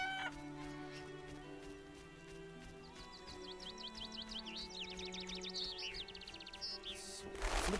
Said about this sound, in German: Also vom Geräusch her sind es Gänse.